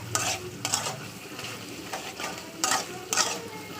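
Potato, eggplant and greens sautéing in oil over a high gas flame, with a steady soft sizzle under repeated scraping stirs of a utensil against the pan, fairly quiet and close.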